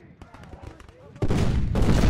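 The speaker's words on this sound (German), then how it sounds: "Da werden wir auch beschossen von irgendwo." Gunfire in the Civil War strategy game Ultimate General: Civil War, starting as scattered distant pops and then swelling into a loud, dense roar of rifle and cannon fire.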